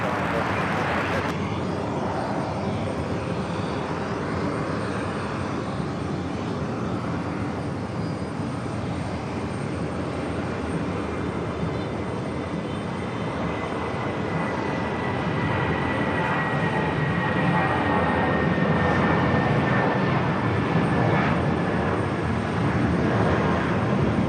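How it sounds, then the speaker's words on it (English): JetBlue Airbus A320 taking off from New York JFK, bound for Orlando: a sustained, loud jet engine roar that swells and holds for over twenty seconds, steady and broad, heard from the airport outside. "Next takeoff, JetBlue Flight 883 heading to Orlando. It's an A320."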